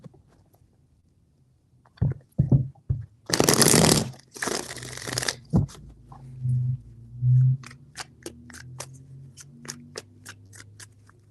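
Tarot cards being shuffled in three bursts, a couple of dense riffling runs near the start followed by lighter taps and flicks as the deck settles, close and fairly quiet with no voice over it.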